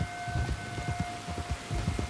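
Rain pours in Red Dead Redemption 2, a dense, low rumbling wash of drops with soft irregular thumps and a faint steady tone underneath, continuous and fairly loud.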